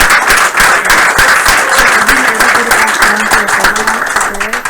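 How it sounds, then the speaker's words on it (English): Sustained applause and clapping from a crowd at a game studio build review, loud and dense throughout, with voices mixed into the noise. "a round of applause for all the MVPs and everybody again who's been working on all these games."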